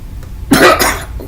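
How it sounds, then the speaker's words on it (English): A single loud, deliberate cough, close to the microphone, short and harsh after a brief pause, with nothing else around it. "Yes, the coughing was done on purpose."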